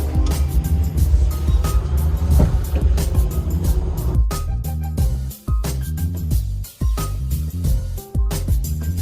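A 1975 Toyota Corolla KE30's 3K four-cylinder OHV engine runs close by, a loud steady rumble that later breaks into a choppy sequence of revs and drops with short gaps.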